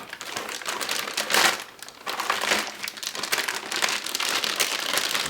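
Plastic wrapping crinkles and crackles steadily as it is pulled off an Anan 10E radio, a dense close rustle with louder bursts near the start and continuing to the end, with no talking.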